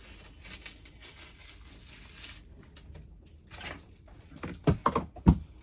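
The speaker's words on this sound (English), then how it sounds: "Just starting to peel it off, and it is a little bit stuck, which is always the worry, particularly as I'm using old masking tape." Old masking tape peels off an acrylic painting of a fenland landscape with faint sticky rasps and rustling, building to a few louder ripping tugs near the end, close and quiet, with no speech.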